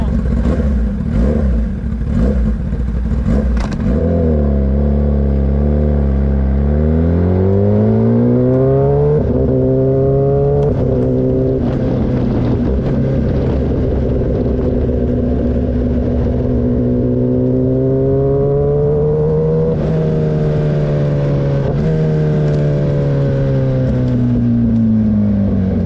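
A Kawasaki Ninja ZX10RR sport motorcycle engine revs loudly up close, with sharp early blips followed by long sweeping climbs and falls in pitch as the throttle is held and released, continuous and dominant with no talking.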